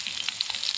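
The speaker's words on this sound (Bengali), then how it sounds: "এবার এই সিম দিয়ে দিচ্ছি" Steady sizzle and crackle of flat beans dropped into hot oil in a pan while cooking a Bengali fish curry, close and continuous with small popping bursts, no talking.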